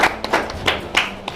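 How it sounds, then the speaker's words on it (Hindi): A few people at a labour union press conference in India clap in sparse, uneven bursts, about four or five separate claps spaced apart, fairly close and moderately loud. "एक तालियां बजाओ एक बार"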